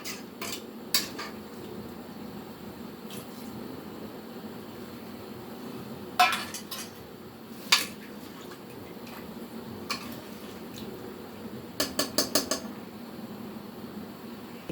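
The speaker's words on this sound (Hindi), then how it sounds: "प्रेशर कुकर का मैंने ढक्कन लगा दिया है।" Scattered metallic clinks and clanks of a pressure cooker lid being fitted and handled, sharp taps with pauses, then a quick cluster of rattling knocks near the end.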